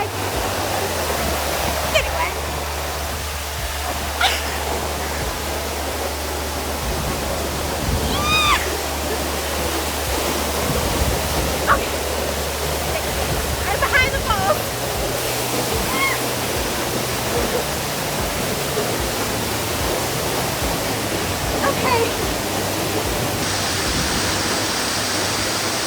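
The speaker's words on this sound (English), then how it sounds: "We are going under the falls." Mashel Falls roars up close as a dense, continuous, full rush of falling water while walking under the falls, with brief voices and exclamations breaking through the steady noise.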